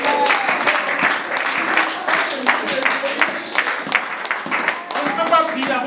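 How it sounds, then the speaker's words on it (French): A church congregation claps steadily in dense, sustained applause for the king, with sharp hand claps throughout and crowd voices mixed into the din. "Acclamons pour le roi."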